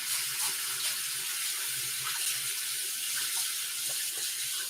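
Tap water runs steadily into a sink during handwashing in a home kitchen while baking a giant cast iron birthday cookie, a constant close hiss with no talking.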